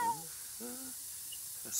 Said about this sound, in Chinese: 猫很怕这种喷雾的。